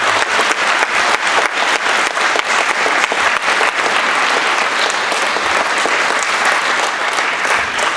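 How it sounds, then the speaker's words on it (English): Parents and guests in an audience give a round of applause after a children's music performance, a loud, sustained, dense clapping that holds steady for several seconds with no talk over it. "Let's give one more round of applause to these children."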